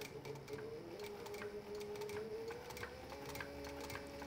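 A sewing machine stitches a leather mouse pad in a steady, continuous mechanical whir with a faint tonal hum, running alone at moderate, even loudness.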